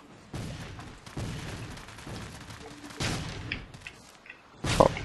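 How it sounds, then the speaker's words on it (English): Cannon and gunfire in a Civil War combat video game, several loud booming blasts and sharp reports spread across the stretch, with a final heavy shot near the end; no one speaks. "Oh, a cannon. Cool."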